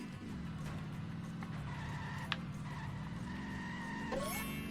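A cartoon car in The Simpsons Hit and Run spins through donuts, its engine droning steadily with a faint tire squeal and a short sharp skid sweeping up near the end, moderately quiet and without talk.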